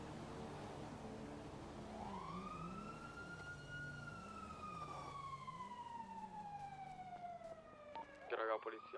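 Police siren in a GTA roleplay game, one long wailing tone sweeping slowly downward with a fainter lower warble underneath, loud and sustained, ending in a brief clatter of other sounds.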